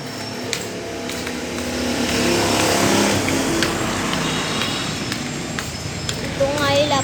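Highway traffic rolls past outside, with cars whooshing by one after another in a steady, fairly loud wash of engine and tire noise.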